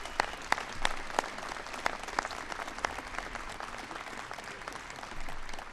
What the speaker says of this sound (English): So another applause,